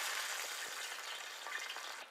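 Chopped garlic fries in hot coconut oil that already holds popped mustard seeds, for a Kerala-style fish head curry, making a continuous soft, even sizzle that stays fairly quiet and close.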